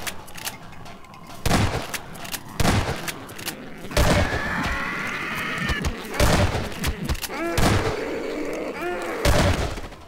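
Gunfire from a Half-Life 2 shooter: repeated sharp shots and heavier booming blasts scattered across a busy, noisy battle scene, with occasional metallic ringing and a little speech under it.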